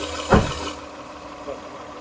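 A Lexus RX 300, just repaired after a valve stem seal replacement, idles quietly with a soft, steady low rumble. There is one brief louder knock near the start.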